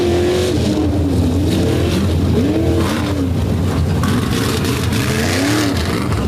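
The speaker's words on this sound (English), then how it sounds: "Smooth runs for both of these guys as Scott Martin" Race cars making runs at Bloomsburg roar loudly and continuously, with engine pitch climbing and falling through repeated revs and gear changes, close and dominant throughout with no talk.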